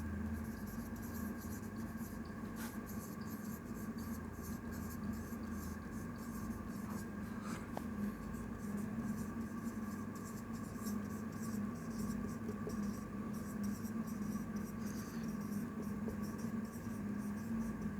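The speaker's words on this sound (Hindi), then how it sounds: "देखो मैं लिख रहा हूं उसे" Pen scratching on paper while writing notes, faint and continuous with soft strokes over a low background hum, close by.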